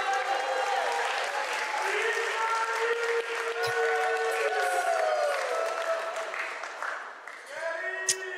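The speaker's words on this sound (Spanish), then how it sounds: "un fuerte aplauso que se escuche" Wedding guests at a reception at the Bellevue Conference Center in Chantilly, Virginia applaud the best man in a steady round of clapping, with voices and cheers over it that taper slightly near the end.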